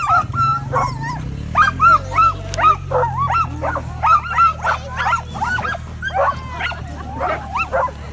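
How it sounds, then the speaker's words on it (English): A team of eight sled dogs waits on the line at the start of a long-distance mail race on the Top of the World Highway, barking and yipping in quick, excited bursts nonstop, close and loud over a low rumbling background. "Jason's got 8 dogs on the line this morning and they are all ready to go."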